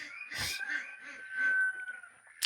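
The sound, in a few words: chickens and ducks clucking and crowing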